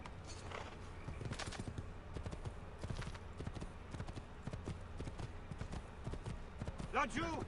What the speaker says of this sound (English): Thankfully there's a horse here.